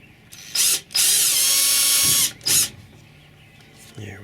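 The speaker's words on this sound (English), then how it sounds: "I want to start by drilling starter holes with a smaller drill bit" A power drill boring small starter holes with a narrow bit while mounting a cargo box on a kayak trailer, heard as two short bursts and then a long steady whine of about a second and a half, close and loud.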